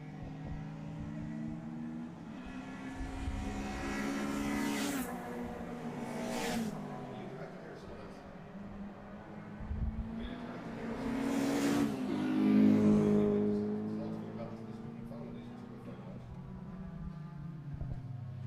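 Race cars lap a circuit at a round of the ICCR 2024 series, several rising and falling engine roars sweeping past at moderate distance, with a commentator talking over them.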